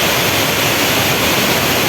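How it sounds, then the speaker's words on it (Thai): Mae Klang waterfall at Doi Inthanon, Thailand, gives off a loud, constant roar of falling water. The hiss stays unbroken throughout, with no voices. "ดูตัดจากท้องฟ้า น้ำตกแม่กลางนะ"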